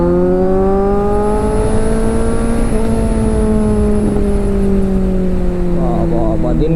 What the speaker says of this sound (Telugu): కొంచెం పుల్లిద్దాం బైక్కి.